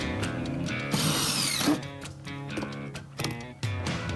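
Power drill driving edge screws into cedar deck boards around a concrete slab, close and loud with ratcheting whirs and brief surges over a few seconds, no talk.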